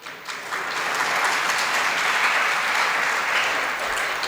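An audience applauds during a Jain monk's sermon at Terahpanthi Kothi in Shikharji Madhuban, steady dense clapping that swells quickly and holds loud for several seconds, with no speech over it.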